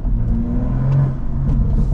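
A BMW M135i with the N55 engine, modified past 400 hp, hums steadily from inside the cabin, its low engine drone rising slightly without any clear rev spike, with no talking over it.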